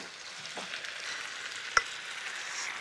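Beef and peas frying in a pan, a soft, even sizzle with one sharp clink of a utensil partway through, close and quiet, with no one talking.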